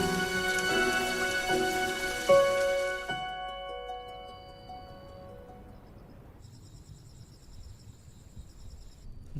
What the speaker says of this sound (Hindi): क्या किस्मत है ऐसे समय पे बारिश हुई।